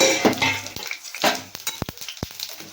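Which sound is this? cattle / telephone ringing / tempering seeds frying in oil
tempering seeds frying in oil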